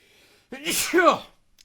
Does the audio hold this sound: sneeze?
yes